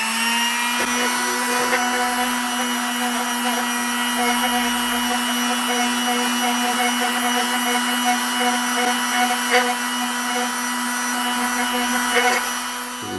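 A Toluca meteorite slice is polished at 400 grit on a steadily whining power tool, a constant close, even drone with faint scraping ticks throughout.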